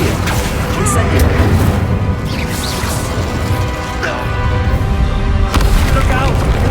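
Dense, loud spell explosions and booming impacts during a troll fight in Hogwarts Legacy, a continuous clash of crashes and thuds with voices shouting over the din.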